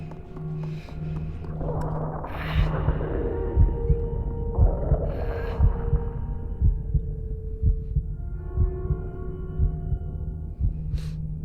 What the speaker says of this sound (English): I really don't like the sound of heartbeats in game